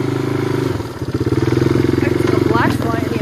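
A two-wheel drive motorcycle engine chugs steadily and close by as it rides through the bush, giving a thumping, pulsing drone with some clatter, while a person talks over it.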